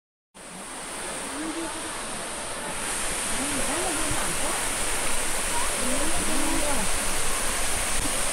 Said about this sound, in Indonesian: samar-samar sudah terdengar suara air terjun.